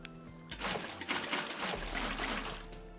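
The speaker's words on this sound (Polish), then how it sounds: "No to wlewaj wodę teraz, dawaj." Water pours into an underground pool being built in Minecraft, a steady broadband rushing and splashing wash that swells and holds for several seconds with a faint low hum beneath.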